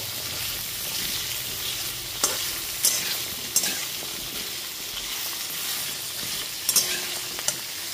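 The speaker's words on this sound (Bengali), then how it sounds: "মূলো আর গাজরটা দিয়েও খুব ভালো মতো একবার মিশিয়ে নিচ্ছি।" Evenly cut radish and carrot pieces are stirred in a sizzling pan for a mixed-vegetable labra, a constant frying hiss broken by several sharp spatula scrapes and clacks.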